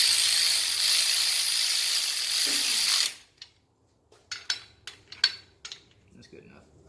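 A steady loud rushing noise stops abruptly. A ratchet then gives a few short bursts of close, sharp clicks while snugging a bolt that holds the crank in a 4G63 engine block.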